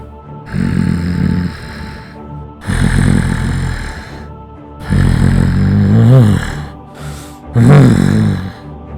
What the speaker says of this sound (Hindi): उन दोनों को भी अब वही भयानक सांसों की आवाज सुनाई देने लगी